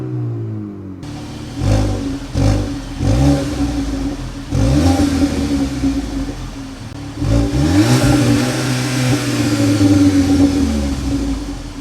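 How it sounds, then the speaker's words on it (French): A Volkswagen Polo GTI's engine revs through its twin exhaust outlets in repeated rising and falling bursts, with a steady idle rumble between blips and a longer, fuller rev toward the end. "Et puis, 2 sorties d'échappement qui sonnent plutôt correctement."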